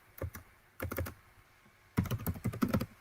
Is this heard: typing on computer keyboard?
yes